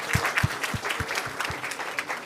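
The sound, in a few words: audience applause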